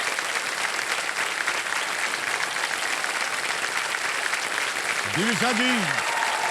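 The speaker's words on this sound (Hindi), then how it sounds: "ताली बजती रहे इनके लिए" A studio audience on a television quiz show gives dense, continuous applause that holds loud and even throughout. Near the end a voice speaks briefly over the clapping.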